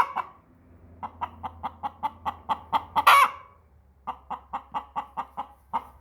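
A broody hen clucking in a steady run of short, evenly spaced clucks close by, a brief louder squawk in the middle, then another regular series of clucks over a faint low hum.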